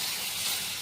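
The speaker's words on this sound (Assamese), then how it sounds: "এতিয়া অলপমান পানী দি দিম।" Water poured onto spices frying in hot oil gives a loud, steady hiss of steam, close and unbroken for under a second.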